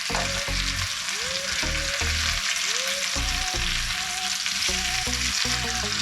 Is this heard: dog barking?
no